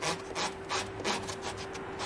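Coarse sandpaper rubs back and forth across a cork block in about eight quick, even strokes, a close rasping scrape with a faint steady hum underneath.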